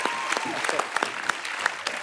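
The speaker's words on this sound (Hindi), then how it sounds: "तालियां।" A studio audience at a comedy talk show breaks into dense, steady applause, many hands clapping at once with a few sharper claps standing out close by.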